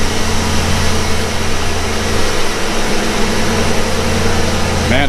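A 1991 Ford Mustang 5.0 Foxbody V8, just fitted with a new fuel pump, runs at a steady idle: a constant, close, droning hum with an even low throb and no change in speed.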